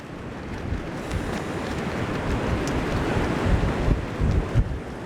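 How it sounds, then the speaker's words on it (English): Strong, gusty wind roars across the microphone at a Padre Island National Seashore beach, a continuous loud rumble with surf washing underneath and heavier gusts buffeting near the end. "it's been a battle with the winds out here"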